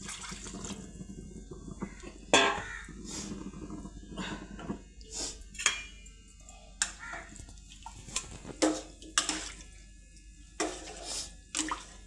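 Water splashes and trickles in irregular bursts as it is poured into chicken curry, close by, with clinks and sloshing between pours; no talking.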